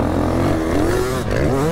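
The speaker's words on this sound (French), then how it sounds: "il faut vraiment être bon pour faire du bruit avec le 4 temps" A four-stroke motocross bike engine revs with a steady, buzzing drone that dips briefly before climbing again, loud and close, with a voice faintly underneath.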